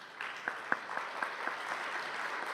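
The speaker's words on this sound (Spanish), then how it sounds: "Un aplauso para ellos tres." Light applause from an audience, a scattering of claps spread over a couple of seconds, fairly distant and soft.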